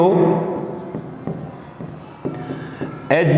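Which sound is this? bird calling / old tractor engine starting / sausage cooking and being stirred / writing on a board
writing on a board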